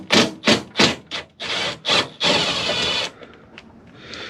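A wrench or ratchet works the bolts on a Silverado pickup's headlight: a series of short, close scraping and clicking bursts in an uneven rhythm, then a longer grinding pull and a few faint ticks.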